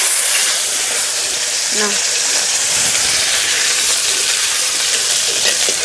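Onion paste sizzles in hot oil with cardamom, cloves and cinnamon for an egg puri, a steady bright frying hiss throughout, with a brief spoken word near the middle.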